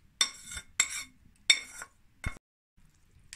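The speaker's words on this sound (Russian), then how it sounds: "Так, тщательно перемешиваем." A spoon stirs a cottage cheese mixture with raisins and vermicelli in a bowl, making four scraping, clinking strokes in a row, close and distinct, then a short quiet.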